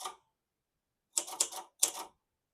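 Keys strike on a 1980s Silver-Reed Silverette portable typewriter, heard as one clack followed after a pause by two short clusters of sharp, crisp key strikes, close and alone in a quiet room.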